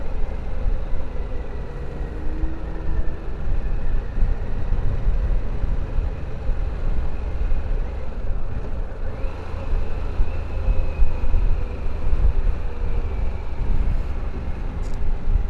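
A 2022 Harley-Davidson Pan America engine drones steadily and loudly while riding, with a continuous low rumble mixed with wind rush throughout and no talking.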